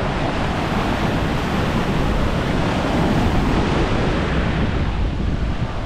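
Sea waves surging onto a beach in Turkey, a dense, steady roar of surf with wind buffeting close to the microphone, continuous and loud with no voices.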